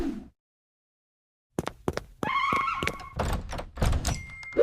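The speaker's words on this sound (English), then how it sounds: "You close a door so the cat can't follow" A household door swings shut with a solid thunk after a stretch of silence, followed by a few knocking and rattling bumps and shuffling movement nearby, fairly loud and close.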